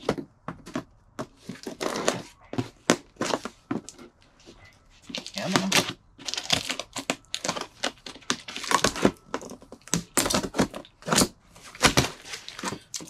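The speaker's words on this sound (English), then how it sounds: "Need my handy dandy box cutter." A box cutter slices open a cardboard estate-sale book mystery box with packing paper inside, producing a dense run of sharp scraping, tearing and crinkling bursts up close, with brief pauses between strokes.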